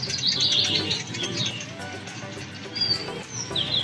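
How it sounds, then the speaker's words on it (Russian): Small birds chirp and tweet outdoors during a pony ride, with bright, repeated calls in clusters near and farther off over a soft background hiss. "Такая природа, птички поют, ящерицы ползают."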